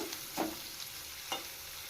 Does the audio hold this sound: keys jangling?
no